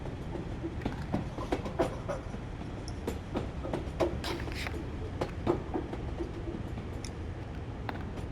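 Train coaches rolling in the video game Train Sim World 3: a steady low rumble with repeated sharp clicks and clacks of wheels over rail joints, moderately quiet, with no speech.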